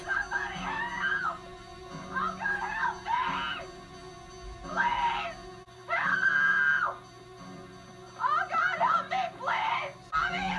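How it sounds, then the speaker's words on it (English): A woman screams for help in the 1978 horror film Halloween, heard as a series of shrill, wavering cries in separate bursts against a quiet, hum-laden background, moderately loud. "Laurie finally gets back out of the house and literally runs across the street screaming for help"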